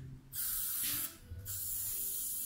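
An aerosol spray can hisses in two close bursts, one long and one short, as a coat goes onto a framing piece, with quiet handling noise between and after.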